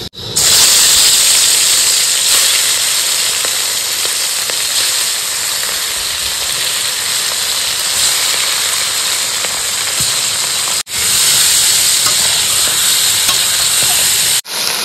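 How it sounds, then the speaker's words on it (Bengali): Marinated prawns fry in hot mustard oil in a kadai, a loud, continuous close sizzle and hiss with brief breaks, heard alone without talk. "তেল গরম হয়ে গেছে, এবার মাছ দিয়ে দেবো।"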